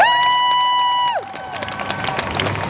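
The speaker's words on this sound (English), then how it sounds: "can we just get a round of applause for Jujubee, Miss Fame, and Scarlett overall?" A live audience applauds and cheers for drag queen panelists Jujubee, Miss Fame and Scarlett at a panel event. A sustained tone fades out first, then the broad clapping and crowd noise swell and hold steady at moderate loudness.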